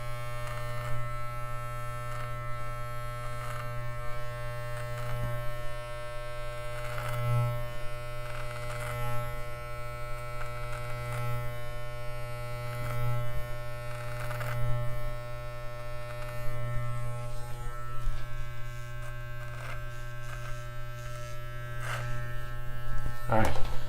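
Electric clippers trim a beard with a steady, close buzzing hum that runs without a break, taking only a few hairs on each pass. Faint clicks and small rises in the buzz come and go as the clippers move, and a voice talks over them.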